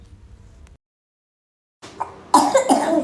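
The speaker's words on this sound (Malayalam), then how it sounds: "ഭയങ്കര ചുമ" After a moment of quiet, a close, harsh cough bursts out, followed by rough, chesty coughing.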